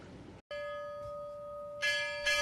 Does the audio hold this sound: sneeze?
no